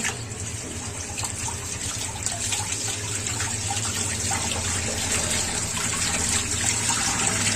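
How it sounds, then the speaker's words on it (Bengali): Freshly picked methi leaves are washed under running water, a steady splashing gush like a tap filling a sink. It is fairly loud and continuous, with no talking. "এগুলোকে এখন আমি ভালো করে ধুয়ে নেব জলে।"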